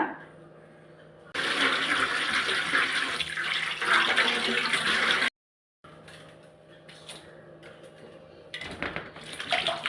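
Running water splashes loudly as bitter gourd is rinsed under it, pausing briefly before the splashing resumes with bursts of handling noise.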